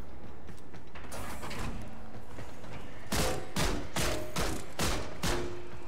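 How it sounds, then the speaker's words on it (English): Bursts of gunfire in the video game Warframe: several loud, sharp shots fired in quick succession in the second half, over a steady background of game ambience. "Guns a-blazin'."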